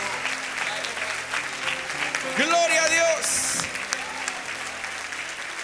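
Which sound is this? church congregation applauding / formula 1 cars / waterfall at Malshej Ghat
church congregation applauding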